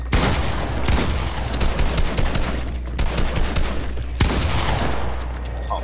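Rapid bursts of video game gunfire crackle through the whole stretch, dense volleys with a few sharper cracks standing out, loud and close over a steady low rumble.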